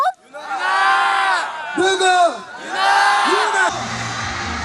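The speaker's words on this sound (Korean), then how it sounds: "관객들의 간절한 외침 속에 무대에 오른 두 사람" Crowd of students screaming and cheering loudly at an outdoor concert with singers on stage, rising in two big surges of high-pitched shouts and whoops, then dropping to a lower murmur.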